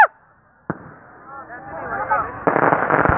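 Fourth of July fireworks explode in loud sharp bursts, one at the start, another shortly after and a crackling volley later, while voices talk in between.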